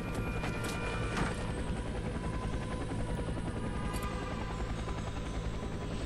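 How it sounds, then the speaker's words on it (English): Helicopter in the video game F.E.A.R. 3, a loud steady rotor thump and engine roar filling the scene continuously, close and dominant throughout. "made it to the chopper"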